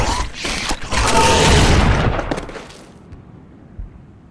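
Gunfire in the video game Serious Sam 4: a loud burst of rapid, booming shots lasting a couple of seconds, then fading into a softer rumbling tail with a single faint thud near the end.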